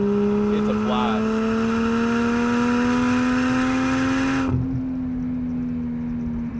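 A Toyota Chaser sports sedan's exhaust drones loudly at steady high revs, the pitch slowly climbing before the engine drops back, recorded close from inside the car.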